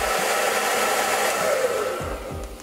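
A blow dryer set on high heat dries freshly tie-dyed Vans sneakers, a loud steady close-up whoosh with a slight shift in pitch near the end.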